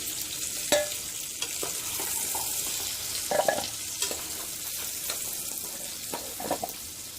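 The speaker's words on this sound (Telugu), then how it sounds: "దోరగా ఫ్రై చేసుకోవాలి" Drumstick curry ingredients fry in oil in a kadai, a steady close sizzle and crackle with the scrape and tap of a spoon stirring at irregular moments throughout.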